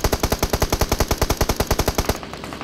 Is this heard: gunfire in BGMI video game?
yes